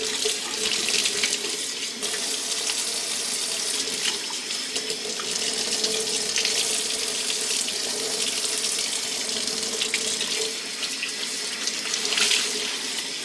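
Water from a tap runs steadily and continuously while a face mask is rinsed off, a close, even hiss with no speech over it.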